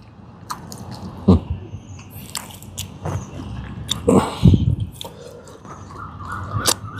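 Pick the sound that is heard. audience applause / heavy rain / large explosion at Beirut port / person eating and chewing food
person eating and chewing food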